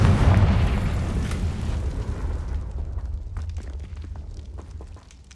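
A Confringo spell explosion in the video game Hogwarts Legacy: one heavy, deep boom that opens loud and rumbles away over several seconds, with scattered crackling debris settling as it fades.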